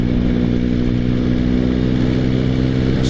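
A motorcycle engine pulling away under acceleration while being ridden, a loud, continuous droning engine note close to the microphone, with steady wind rush and no talk.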